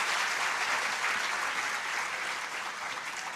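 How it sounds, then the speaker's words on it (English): A hall audience at a bank's national quiz grand finale applauds an executive director with a steady, even round of clapping that holds at a constant level from start to finish. "Can we please have a round of applause for him?"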